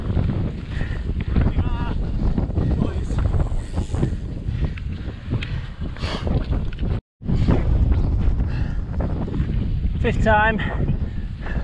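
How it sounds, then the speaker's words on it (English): Strong wind buffeting the microphone on a climb up San Marino, a continuous loud rushing roar with gusts, while someone speaks briefly over it. "wind's picking up"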